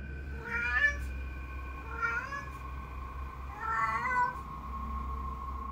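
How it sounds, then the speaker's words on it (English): A cat yowls near a closet indoors, with three drawn-out, wavering meows spaced a couple of seconds apart over a low steady hum, close and fairly loud. "the cat is hanging around near the closet, looking upwards and yowling"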